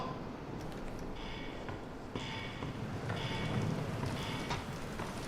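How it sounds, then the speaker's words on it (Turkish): Steady rain pouring down in the video game Bendy and the Dark Revival, with a dense hiss and low rumble, punctuated by faint brief clicks, continuous and fairly quiet. "Yağmur yağıyor ya."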